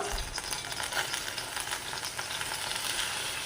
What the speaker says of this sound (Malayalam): ചിരവിയ തേങ്ങ അരക്കപ്പ് കാൽ ടീസ്പൂൺ ജീരകം പിന്നെ രണ്ട് തണ്ട് കറിവേപ്പില ഇതെല്ലാം നമ്മൾക്ക് ഈ ചൂടായ വെളിച്ചെണ്ണയിലേക്കൊന്ന് ഇട്ട് കൊടുക്കാം